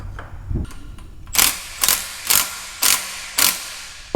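Hand tools work on a 21-year-old Honda XR50 dirt bike as the triple clamp and handlebars are fitted, five sharp evenly spaced ratcheting clicks ringing out close and clear with no talk.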